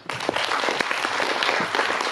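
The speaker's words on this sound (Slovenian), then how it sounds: "Povabimo jih z enim aplavzom." Audience applause for film creators at a festival event, a steady crowd clapping for about two seconds with a few sharper individual claps standing out.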